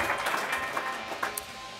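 Scattered, fairly quiet applause from an audience at an awards ceremony for fire station crew members, soft claps blending into a steady wash with a few sharper hand strikes standing out, no voices.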